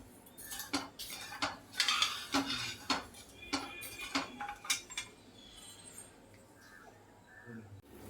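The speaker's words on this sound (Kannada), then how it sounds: "ಸಕ್ಕರೆ ಕರಗೋವರೆಗೂ ಈ ಥರ ಕೈ ಆಡಿಸ್ತಾರೆ" A metal spoon scrapes and clinks against a pan of sugar syrup in quick, uneven strokes, close by, gradually settling into a quieter bubbling hiss over a high flame.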